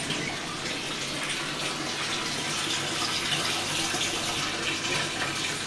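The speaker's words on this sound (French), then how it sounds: "je vais remettre un peu plus d'eau" Tap water pours steadily into a crocodile enclosure at a reptile breeding facility, a dense continuous rushing splash heard close and fairly loud, unbroken for the whole stretch with no talk over it.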